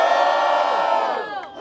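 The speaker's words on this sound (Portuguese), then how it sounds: "Faz barulho quem gostou do MC Metrex" A rap battle crowd in Cuiabá cheering and shouting for MC Metrex, a dense roar of many voices close by, sustained for a moment and then easing off slightly at the end.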